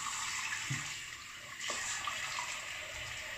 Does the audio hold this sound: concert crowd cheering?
no